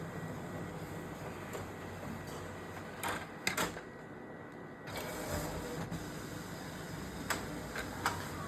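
A photo printer running sheets, a steady low mechanical hum with occasional soft clicks and paper-feed ticks, fairly quiet and continuous throughout.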